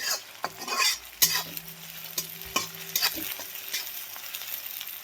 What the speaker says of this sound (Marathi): कांद्याबरोबर टोमॅटो भाजून घ्यायचा आहे व्यवस्थित